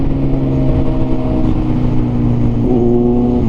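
A Kawasaki Versys 1000 motorcycle fitted with an Orion exhaust revs loudly and steadily nearby, its engine tone holding and then climbing slightly near the end, with no talking over it.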